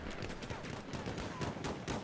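Hellriegel submachine gun from Battlefield 1 firing in sustained automatic bursts, a dense rapid rattle running the whole length with sharper shot peaks throughout, loud and close.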